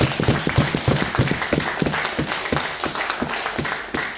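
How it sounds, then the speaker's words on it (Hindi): An audience claps loudly and steadily at a motivational company training event, the dense applause close and continuous with sharp individual hand claps standing out throughout. "जोरदार तालियां होनी चाहिए"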